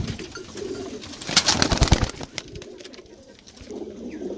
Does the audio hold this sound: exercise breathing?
no